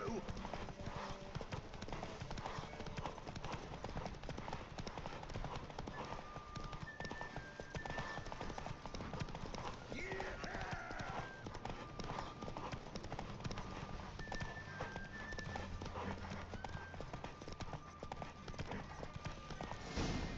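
Hoofbeats of Geralt's horse Roach galloping in The Witcher 3: Wild Hunt, a steady rapid clip-clop running throughout with a brief whinny, overlaid by game music and occasional talking.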